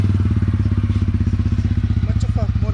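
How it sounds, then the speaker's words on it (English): Exhaust of a TVS Ronin 225 motorcycle idling up close, a loud, deep, bassy thumping beat in an even rapid rhythm throughout, with faint other sounds briefly near the end. "So this is how the exhaust sounds, my friends."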